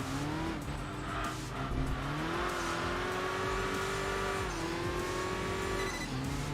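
A Nissan Silvia race car in the Enthusia Professional Racing video game drives fast laps, its engine note rising and falling through gear changes with tire squeal on slides, steady and fairly quiet with no talk.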